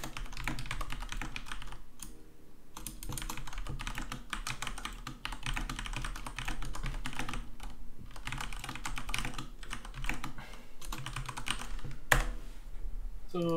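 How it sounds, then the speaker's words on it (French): Fast, hard typing hammers a computer keyboard, a dense continuous clatter of keystrokes close to the microphone, loud and steady with no talking. "je tabasse mon clavier 2 secondes"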